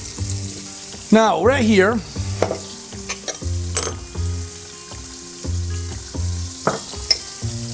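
Flank steak sizzles steadily in a hot pan, a constant frying hiss with scattered clinks and stirring scrapes, while a voice speaks briefly over it near the start.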